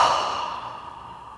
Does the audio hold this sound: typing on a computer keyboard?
no